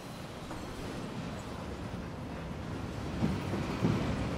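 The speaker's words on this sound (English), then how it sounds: "Oh, the train." A train rolls along its rails in the video game Life is Strange 2, a steady broadband rumble with faint rhythmic clacks. Two slightly louder wheel bumps come toward the end.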